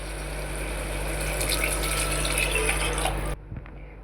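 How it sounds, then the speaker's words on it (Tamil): Water gushes steadily into a cooking pot of sautéed onions and spices for a few seconds, then cuts off abruptly, leaving faint clinks and quiet. "இந்த அளவுக்கு ஆனதும் தண்ணி சேர்த்திக்கலாம்."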